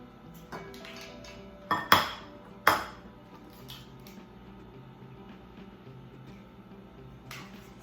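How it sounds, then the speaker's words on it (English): Two sharp cracks of eggs against a bowl rim ring out close by, followed by faint clinking and light tapping as two eggs are whisked, with a brief softer tap near the end in a quiet kitchen. "we're going to get our 2 eggs cracked and whipped up"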